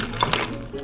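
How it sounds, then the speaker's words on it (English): Ice cubes clinking into a highball glass for a grapefruit Paloma cocktail: a few quick, bright clinks in under a second, close by, over faint background noise. "Now we're gonna add some ice"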